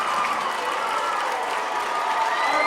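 A high school wrestling crowd at South Kitsap versus Yelm erupts in loud, sustained applause and cheering, a thick continuous roar of clapping and voices that holds steady from start to finish.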